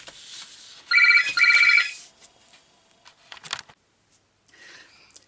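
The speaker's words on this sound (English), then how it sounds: "the phone rang" An indoor telephone rings loud and close in two quick bursts, followed by faint rustling and small clicks.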